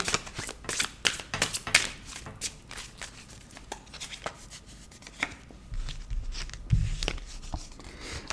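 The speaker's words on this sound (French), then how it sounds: "on remélange" A deck of cards is shuffled in several quick riffling bursts, the crisp card flutter close and fairly loud, with soft handling noises between.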